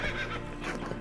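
Roach, a horse in The Witcher 3 video game, gives a short, close neigh lasting about a second, heard alone over a low game background.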